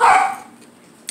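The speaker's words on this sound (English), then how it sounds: "I have dogs that are fighting." Dogs fighting, with a loud burst of barking and snarling at the start that fades quickly, followed by a brief sharp yip near the end.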